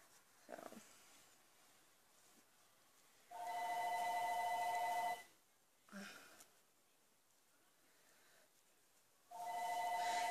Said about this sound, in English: And there is my phone.